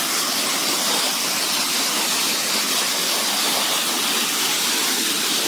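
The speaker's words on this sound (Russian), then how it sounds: "Да, такой водопад." A waterfall beside an old mill, where a mill wheel once stood, roars as a steady, loud broadband rush of falling water throughout, with no voices.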